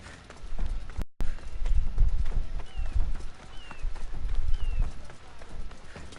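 Galloping horse hooves in Assassin's Creed Odyssey, a steady fast clip-clop running throughout at moderate loudness, mixed with game ambience and a brief cut near the start.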